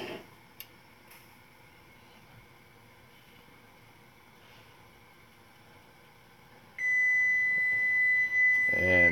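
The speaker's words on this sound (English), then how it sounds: "And timer's done." A kitchen timer beeps in a steady, loud electronic tone near the end of the stretch, after a quiet kitchen background with faint ticking.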